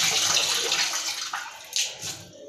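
Water is poured into cornflour batter for Chinese chicken vegetable doughnuts, a steady close splashing rush that fades with brief trickles near the end.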